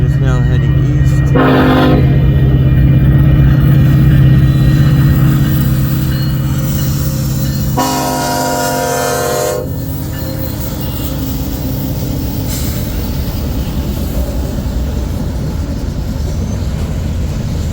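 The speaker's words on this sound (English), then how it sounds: "that northbound shuttle, corn shuttle, got the green and is now heading east." Northbound corn shuttle freight train passing close and loud, its horn blaring in long blasts at the start and again midway, over a constant rumble of rolling railcars.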